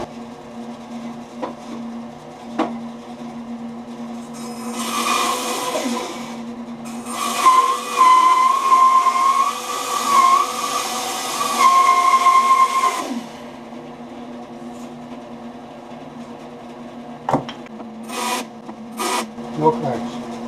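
A saw cuts thin slices off the ends of firewood sticks in bursts of rasping strokes over several seconds, set against a steady low hum, with short knocks and clatter between cuts.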